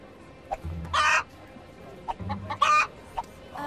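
Farm hens clucking in a children's cooking cartoon, two short bursts of loud clucks with quieter chirps between, close and without talk.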